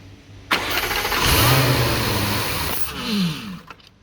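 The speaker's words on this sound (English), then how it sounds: "Just start the car." A 2015 Jaguar F-Type with 72k miles and a hydrolocked engine cranks and catches, settling into a loud, close running rumble that dips and rises again near the end, with no voices.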